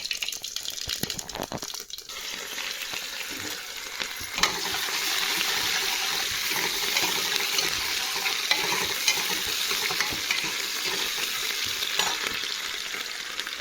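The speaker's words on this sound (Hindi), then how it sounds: "तो पहले मैं डाल रही हूँ जीरा, अब इसके बाद मैं डालती हूँ प्याज" Cumin and onion sizzle and fry in a pan for khichdi, a steady close hiss of frying with occasional stirring scrapes and a brief clatter near the start.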